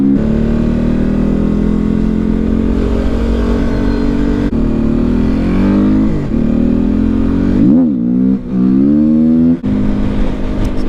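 A Yamaha WR250R motorcycle engine runs loud and close, holding a steady idle-to-mid drone before a few quick revs that swoop up and down near the end.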